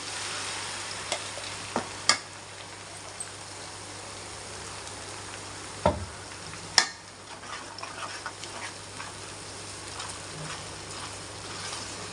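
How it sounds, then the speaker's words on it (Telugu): Ginger paste and masala fry in a pan for a home-style fish curry, a soft, even crackle like light rain, punctuated by a few distinct spoon knocks and scrapes. "బాగా వేగింది అల్లం పేస్ట్ ఇప్పుడు ముందు రెడీ చేసుకున్నాం కదా ఈ మసాలాని ఇందులో వేసేసుకున్నాను"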